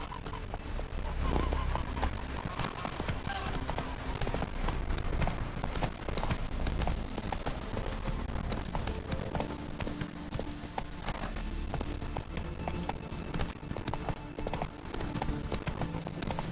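Horse hooves galloping steadily in The Witcher 3, a continuous clip-clop rhythm with occasional whinnies over a dense game soundscape, with a voice speaking briefly.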